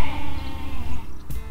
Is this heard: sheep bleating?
yes